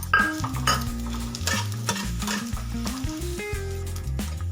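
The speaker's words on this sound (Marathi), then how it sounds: "हे खोबऱ्याचे काप आपल्याला तेलामध्येच भाजून घ्यायचे, याचा कलर चेंज होईपर्यंत।" Coconut slices and coriander seeds roast in hot oil in a pan, giving a steady close sizzle broken by repeated scraping stirs of a utensil against the pan, with no talking.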